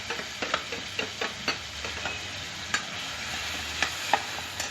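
A ginger and tomato paste is stirred into a cooking pan, with soft sizzling under a series of sharp scraping and tapping strokes from a spoon against the pan, close and fairly quiet.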